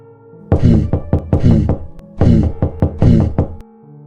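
A sound-effect knocking, struck in dense rhythmic bursts of several loud thuds each, with short pauses between the groups; up close and heard alone without talk.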